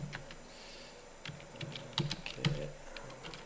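Light, irregular tapping on a computer keyboard, fairly quiet, with small bursts of keystrokes over a faint room hum and no talk.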